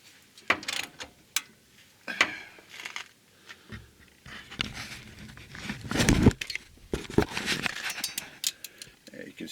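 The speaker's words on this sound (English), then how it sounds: "it's actually coming out with the ratchet" A ratchet turning out an upper control arm bushing sleeve on a 2002 Isuzu Rodeo, heard as bursts of clicking metal over several seconds with a few louder knocks, close to the mic with some talk in between.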